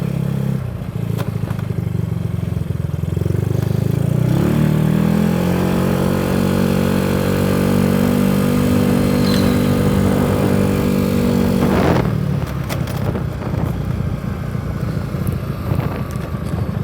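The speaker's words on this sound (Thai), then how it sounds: "ไม่ได้ขับมานานแล้วมีโอคันนี้" A Yamaha Mio scooter with a 58 mm bore kit and no stroke increase drones steadily while ridden, its engine note rising and holding under heavy wind rush before easing off near the end.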